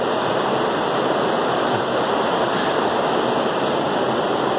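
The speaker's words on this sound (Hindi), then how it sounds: "सतलुज नदी बह रही है यहाँ से," The Sutlej river rushes steadily near Rampur in the Himalayan hills, a loud, dense, unbroken roar of fast water with no talk over it.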